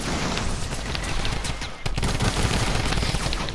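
A drum gun in Fortnite fires in a fast, sustained stream of shots, loud and dense throughout with a brief dip partway before resuming, with no talking.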